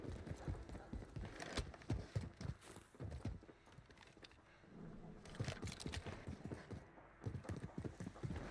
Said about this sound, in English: His footsteps sound weird, so I can't tell exactly where he went